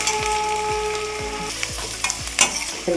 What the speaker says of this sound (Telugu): ఉల్లిపాయ ముక్కలు వేయించుకున్నాం